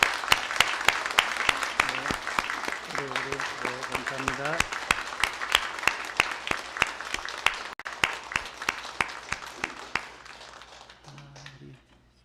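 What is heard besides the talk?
congregation applauding in church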